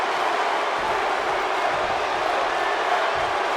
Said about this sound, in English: Well, these fans, some of them so cheering for Axiom.